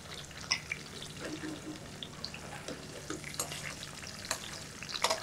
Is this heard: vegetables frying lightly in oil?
yes